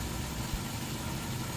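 A Toyota Great Corolla engine idling steadily, with a constant low rumble and hum and no speech.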